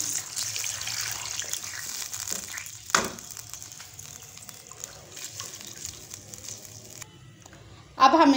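Chicken stock pours steadily into a pan with a soft, continuous splashing hiss, followed by a brief louder clatter near the end.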